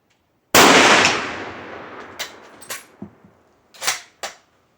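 A single sharp blast from an 8x57 IS Mauser rifle firing a reloaded reduced-load cartridge with lead bullets, echoing and decaying outdoors, followed by several quieter mechanical clacks and knocks.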